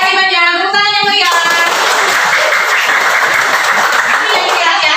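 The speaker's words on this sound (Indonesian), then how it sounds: "Tepuk tangan yang meriah." Children in a classroom break into loud, sustained clapping and applause that fills the room, following a brief stretch of talk at the start.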